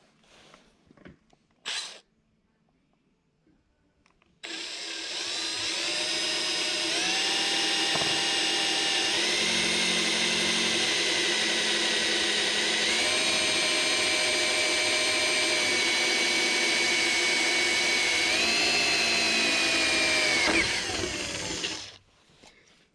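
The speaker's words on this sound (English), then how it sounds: "always start with a smaller drill bit than you actually need" A power drill bores holes through a rear bumper for light installation, its high whine running steadily for about seventeen seconds with slight pitch steps as the bit works through, loud and close with no talking.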